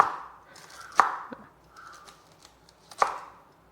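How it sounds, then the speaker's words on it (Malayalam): A knife chops through a tender plant shoot with two crisp, sharp cuts about two seconds apart. The cuts sound close, and soft rustling sounds fall between them against a quiet background. "ഇളം കൂമ്പായതുകൊണ്ട് നമുക്ക് പെട്ടെന്ന് അരിഞ്ഞെടുക്കാൻ പറ്റും"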